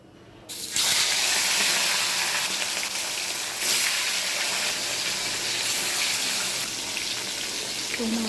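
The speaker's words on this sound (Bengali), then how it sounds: "এবার মাছটা ভেজে নেব।" Rohu fish pieces frying in hot oil, a sudden loud, close sizzle that starts abruptly and holds as a continuous crackling hiss throughout.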